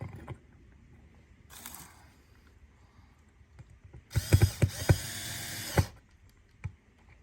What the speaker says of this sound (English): Start with the screws.